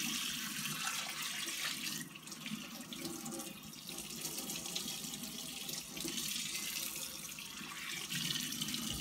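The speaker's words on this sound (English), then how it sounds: "run your water and rinse it off." Tap water runs steadily over a cast iron skillet being rinsed off at a sink, a continuous close splashing hiss with no talking.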